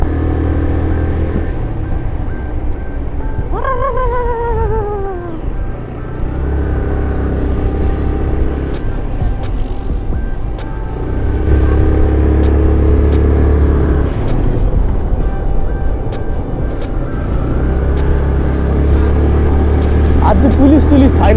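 A Royal Enfield Bullet motorcycle rumbles steadily on the road while being ridden, its engine drone continuous through the ride with wind noise, and a person talks over it.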